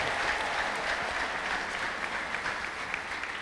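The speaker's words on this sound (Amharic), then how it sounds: "ከዚህ በላይ አጨብጭቡ" A church congregation at a prophet's service claps together in sustained, dense applause that swells and holds steady throughout, with faint voices mixed in.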